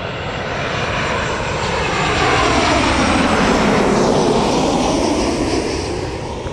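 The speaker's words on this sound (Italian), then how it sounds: "Ryanair Boeing 737-800" A Ryanair Boeing 737-800 with CFM engines, arriving from Valencia, lands at Rome Fiumicino with a loud, continuous jet roar that swells and holds steady before easing slightly at the end.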